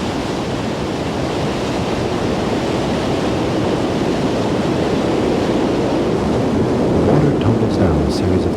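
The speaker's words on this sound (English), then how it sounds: "Down a series of 3 waterfalls for a total drop of 380 meters." A river in the Austrian Alps plunges down a series of three waterfalls, giving a loud, steady, unbroken roar of rushing water that holds constant throughout.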